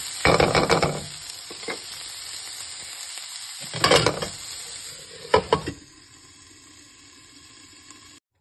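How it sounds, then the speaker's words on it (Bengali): Spiced vegetables sizzle steadily in a pan while being stirred, with a few louder scraping bursts near the start, middle and end. "এই মশলাটা আমি এতে দিয়ে পুরো জিনিসটাকে নাড়িয়ে"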